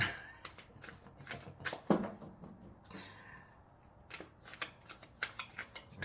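Tarot cards are shuffled close by, a series of soft riffling flutters and taps with brief pauses between them.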